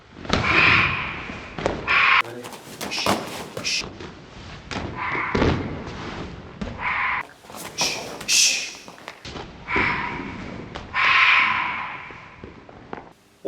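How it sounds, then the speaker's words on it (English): Taekwondo downward axe kicks land in a series of loud, sharp thuds and slaps, roughly a dozen close impacts spread irregularly with brief gaps between them. "Here are some ways to set up the downward kick."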